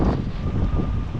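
Wind rushes across the microphone during a bike ride ahead of a storm, a steady, close, buffeting roar with no voices.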